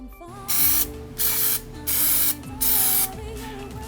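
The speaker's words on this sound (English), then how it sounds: "to plasti dip this chrome WRX black" Aerosol cans of Plasti Dip rubber coating sprayed onto a chrome WRX shifter bezel, four distinct bursts of close, loud hissing spray with short pauses between them, over a steady low background hum.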